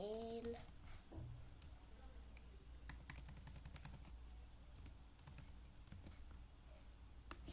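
Rapid, irregular keystrokes from HTML code being typed on a computer keyboard, close and fairly quiet, clicking in uneven bursts with a brief voice at the very start.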